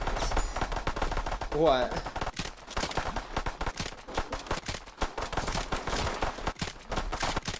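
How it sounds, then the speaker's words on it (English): Sustained automatic gunfire in a cooperative shooter game, fired through a wall in a dense, rapid, continuous stream of shots, close and loud, with a brief voice speaking over it. "I'm just shooting through this wall"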